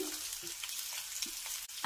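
Soft, steady sizzling of garlic browning in hot oil, with a few faint clinks of a spoon against the pan.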